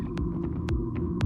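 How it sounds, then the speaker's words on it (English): A fully electric Audi Q6 e-tron gives off a low, steady hum with a soft rhythmic throbbing pulse repeating roughly every half second, and no voices. "That's the sound of the fully electric Audi Q6 e-tron."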